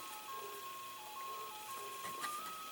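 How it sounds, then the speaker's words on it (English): An ice cream truck plays its melody while driving through a residential neighborhood, a thin tinny tune heard faint and distant over low background noise. "Got that ice cream truck running in our neighborhood."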